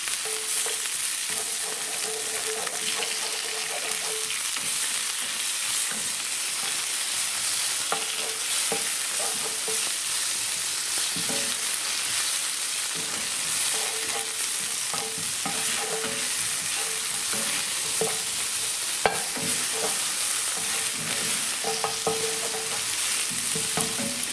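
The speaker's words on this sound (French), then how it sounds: "Je mélange le tout." Sweet potato gnocchi stirred in a hot pan, a steady, close sizzle of frying with repeated scraping and tapping strokes of the spoon running throughout, no voices.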